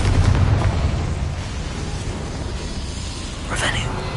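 A Confringo blasting spell goes off in Hogwarts Legacy, a heavy game explosion with a booming burst at the start and a rumbling tail, followed by a brighter crack near the end.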